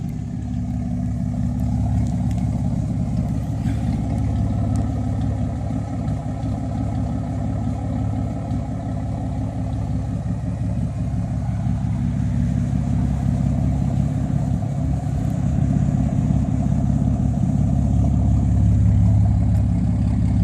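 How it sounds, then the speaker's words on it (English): A 2000 Dodge Dakota Sport 4x4 with a twin-cat exhaust idles steadily outdoors, producing a continuous low, rumbling drone at a constant loud level without revving or talking. "Let's take you guys out back so you can hear what this thing sounds like"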